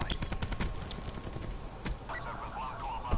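Gunfire on the Nuketown map in a first-person shooter crackles in quick, close bursts of shots early on, then thins out into scattered pops and game sounds.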